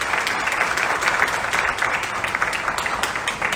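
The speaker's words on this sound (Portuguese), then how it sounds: "Queria pedir uma salva de palmas para ela" Audience at a condominium managers' event breaks into loud, sustained applause, dense clapping filling the whole stretch with no pause and no speech over it.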